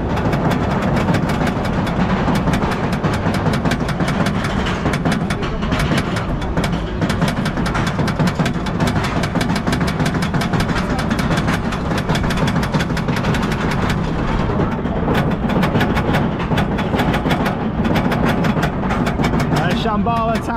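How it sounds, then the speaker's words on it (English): Dragon Khan roller coaster train at PortAventura ratcheting up its lift hill, a loud continuous mechanical clatter with rapid rhythmic clicks and a heavy low rumble, recorded on board. "Let's start climbing that lift."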